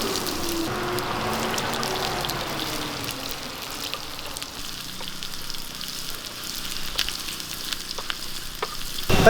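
Mustard seeds and chopped shallots sizzle in hot oil for a Kerala-style paal kappa, a steady close crackle with stirring and scraping throughout, a few sharp pops near the end.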